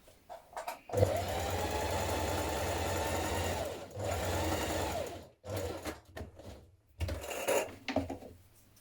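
A sewing machine runs a line of stay stitching 1.3 cm from the raw edge of dress fabric, whirring close and steady in two long bursts. Shorter spurts follow with small handling clicks in between, and nobody speaks.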